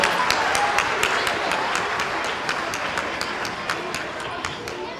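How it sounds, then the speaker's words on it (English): An audience at a school winter band concert claps, a steady wash of applause with distinct sharp claps standing out, holding for the full stretch with some voices mixed in. "if we could please give another round of applause"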